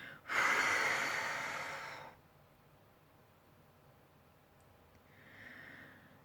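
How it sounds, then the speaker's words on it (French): One long, deep exhale through the mouth during a guided breathing exercise for concentration, loud and breathy for about two seconds, followed by quiet and a softer breath near the end. "Et là, vous soufflez."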